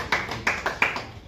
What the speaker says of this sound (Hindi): ताली बजाइए भाई।